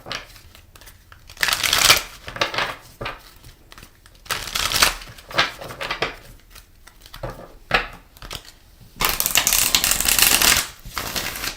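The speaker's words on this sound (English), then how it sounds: "I really want to shuffle these." Tarot cards being shuffled up close in repeated crisp, riffling bursts, each lasting a second or two and separated by short quiet pauses.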